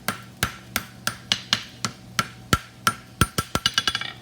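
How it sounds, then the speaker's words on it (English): A blacksmith's hammer strikes a mushroom trotter horseshoe on the anvil, about fifteen sharp ringing blows in a steady rhythm that quickens into rapid light taps at the end, close and loud. "come back here with the heel of my hammer and just straighten it up straight across"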